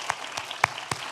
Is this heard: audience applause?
yes